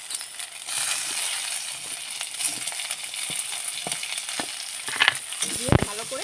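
Ginger-garlic paste, potatoes and tomatoes fry hard in hot oil in a pan, a loud, continuous sizzle broken by scattered scrapes and clinks of stirring, with sharper clatters near the end.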